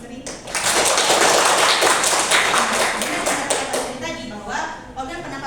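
A classroom full of students claps for a classmate during a school lesson, a loud, dense burst of hand clapping that holds steady and then tapers off while voices continue underneath.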